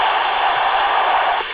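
Continuous radio static heard on the lower sideband of a transceiver, an even, steady hiss that drops slightly in level near the end, with no talking.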